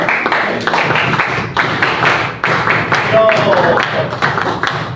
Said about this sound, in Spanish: Saludar con un efusivo aplauso.